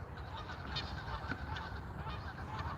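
Canada geese honking near woods by a river, a faint chorus of repeated nasal honks at a distance, steady throughout.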